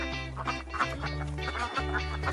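A farm duck quacks in quick repeated calls, close and clear over a bed of background music.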